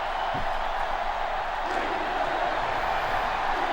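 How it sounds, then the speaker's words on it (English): Stadium crowd cheering in the football video game NCAA Football 06, a broad steady roar of noise filling the clip, loud and continuous with a faint voice beneath. "Crowd going crazy again."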